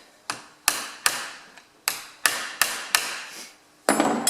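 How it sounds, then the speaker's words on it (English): An old chisel is hammered against a Ferguson TE20 hydraulic lift cover in about eight close, sharp metallic strikes at a steady rhythm, each blow ringing briefly before the next. "All the carpenters will be crying because I'm using an old chisel"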